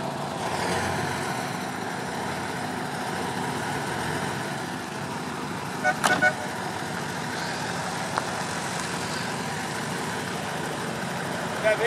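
A MAN Büssing 19320 underfloor-engine truck idles steadily, a continuous mid-pitched diesel drone with a brief louder rise partway through, close and fairly loud, with faint voices nearby.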